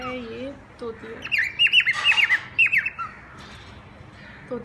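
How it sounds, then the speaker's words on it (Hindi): Parrots in a new cage let out a burst of sharp, shrill squawks in quick succession, close and loud, with a voice speaking before and around the calls. "ये तोता है, ये तोती है।"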